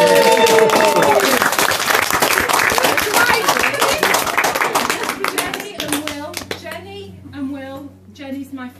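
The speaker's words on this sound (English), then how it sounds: "Round of applause!" Wedding guests applaud loudly in a dense burst of clapping during a speech, with cheers and voices mixed in; the clapping fades after several seconds as a speaker resumes talking.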